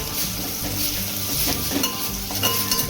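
Ginger-garlic paste being stirred into a mutton curry in a pan, with steady oily sizzling and frying under scraping and clinking of a spoon against the pan.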